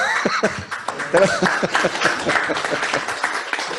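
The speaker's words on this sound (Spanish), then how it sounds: "Pueden aplaudir si gustan." A classroom audience at a contracting course claps briefly, scattered uneven hand claps mixed with chuckles, laughter and murmured voices nearby.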